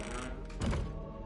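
Revelio spell cast in Hogwarts Legacy gives a short, deep magical thump with a whooshing shimmer, a single close burst over faint game ambience.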